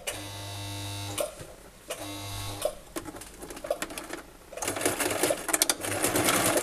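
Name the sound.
sewing machine sewing fabric for a washable wipes basket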